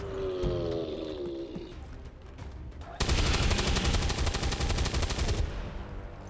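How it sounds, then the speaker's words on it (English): Rapid automatic gunfire from soldiers in XCOM 2, a dense sustained burst that starts abruptly midway and rattles on loudly for a few seconds over game ambience, preceded by softer combat sounds. "Move up here and shoot at close range."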